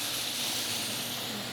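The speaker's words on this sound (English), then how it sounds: "A little bit of a sizzle there." Meat sears in a hot pan, giving a steady, even hiss of sizzling that carries quietly and unbroken through the whole moment with no talk.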